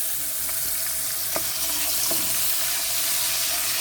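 Garlic and ginger paste frying in oil already used for tomatoes and onions gives a steady, loud sizzle with a few faint clinks of a utensil against the pan.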